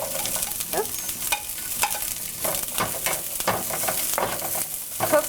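Garlic and onion sizzle in a hot pan used for cashew chicken, with a steady crackle under repeated scraping stir strokes at close range and no talking.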